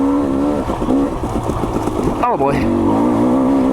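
Engine of a 2022 KTM 300 XC-W two-stroke dirt bike with custom graphics, a steady drone that swells into a quick rev near the middle before settling back, running close under a man's brief spoken remark.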